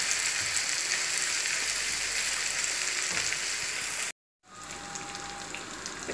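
Anchovies (nethili) frying in hot oil over medium heat, a dense steady crackling sizzle that runs close and loud, briefly cuts to silence, then resumes with the same bubbling frying noise.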